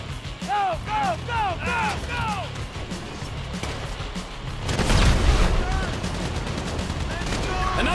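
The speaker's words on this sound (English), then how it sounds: "You hear that gunfire?" Video game gunfire in GTA 5, with rapid bursts of shots and booming impacts during a heist, loud and layered over a rumbling background, with a voice talking in between.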